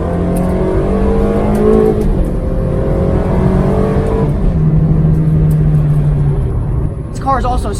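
A 2004 Ferrari 360 Challenge Stradale with a 3.6-litre V8 drives and accelerates, the engine note climbing through gears from inside the car while someone talks over it.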